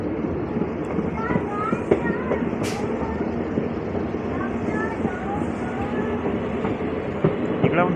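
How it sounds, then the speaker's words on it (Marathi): Akola–Akot passenger train slowing as it rolls into a station, a steady dense rumble of wheels and carriage noise with faint clicks and squeals, heard from on board throughout. "गाडीची स्पीड स्लो झाली आहे पाहू शकता."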